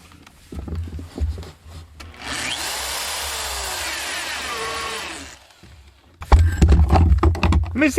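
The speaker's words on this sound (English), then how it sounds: "Let me see if I have a smaller drill bit." Power drill boring into wood while roughing in a bathroom drain: one continuous grinding run of about three seconds, loud and close, with quieter handling and knocks before and after.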